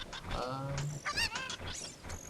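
Cucco chickens in the video game Zelda: Ocarina of Time squawk and cluck in a run of loud, close, honking cries.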